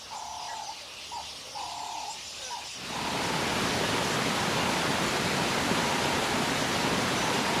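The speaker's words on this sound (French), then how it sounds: "Les chutes Murchison sont également connues sous le nom des chutes Kabalega" Murchison Falls in Uganda roars as a broad, loud, continuous rush of water, cutting in abruptly after a few seconds of quieter ambience with birds calling.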